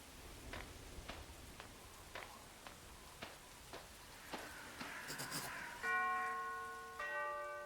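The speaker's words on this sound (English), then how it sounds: "I'd better ring the bell." A doorbell in the video game Arkham Horror: a string of bright chimes rings out at a steady pace, then sustained tonal bell notes swell near the end, with no one speaking.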